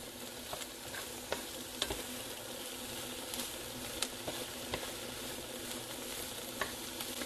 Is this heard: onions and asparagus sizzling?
yes